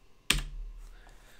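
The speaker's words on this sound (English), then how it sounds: "you can hit the home key on your keyboard to jump to the head of the clip, or the end key to jump to the end of the clip" A single sharp computer keyboard key press with a quick click and brief fading tail, close and alone in a quiet room.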